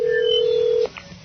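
A telephone ring tone sounds on a call placed live on air during a radio show, heard as one steady loud tone that cuts off sharply, followed by a faint click and low line noise.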